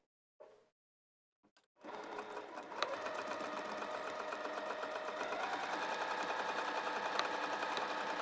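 A sewing machine stitches across a fabric waistband seam for lounge pants, starting after a few soft handling clicks and running as a close, continuous rapid mechanical whir.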